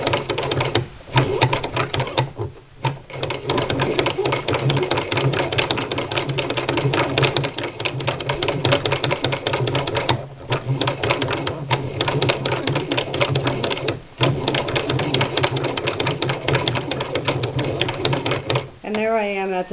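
Singer Model 20 toy chain-stitch sewing machine stitching fabric for a small quilt block, a steady, fast, close rattling whir that runs almost the whole time with only brief pauses.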